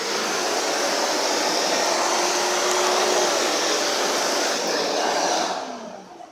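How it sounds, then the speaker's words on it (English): A Kenmore bagged canister vacuum runs with a steady loud whooshing roar and faint whine, its brush roll gliding along the floor, then the motor starts to wind down at the end. "Again, really nice canister vacuum."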